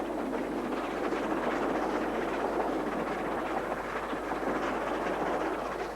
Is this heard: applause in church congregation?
no